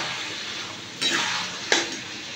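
Chili chicken with pepper powder is stirred in a pan over steady frying hiss, with a couple of scraping strokes and a brief utensil clink against the metal.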